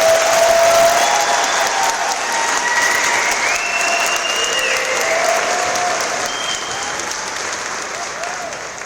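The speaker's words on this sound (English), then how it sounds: "Please join me in another round of applause for the class of 2022" At a middle/high school graduation, the audience gives the class of 2022 a long, full round of applause, steady dense clapping with scattered cheers and whistles that gradually tapers off.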